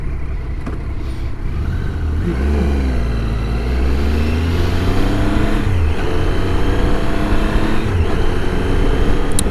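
Engine drone of a motorcycle ridden along curvy FM 917 in the Joshua Burleson area, a steady loud roar with rising and falling pitch as it accelerates and shifts, wind noise throughout.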